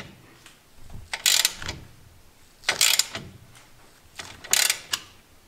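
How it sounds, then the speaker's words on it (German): Ratchet clicks close by, tightening a nut on the steering rack bolts of an Opel Astra: three short bursts of rapid metallic ratcheting separated by quiet gaps, with no talking. "Jetzt kommt die Mutter hier oben drauf, setzt es an und zieht dann alles fest."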